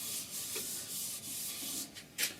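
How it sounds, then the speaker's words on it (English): A tack cloth is rubbed over turned wood on a stopped lathe to lift fine dust, making soft, steady swishing strokes with a few sharper brushes near the end, close up and quiet. "I'm going to use my tack cloth. This is to get rid of any fine dust particles"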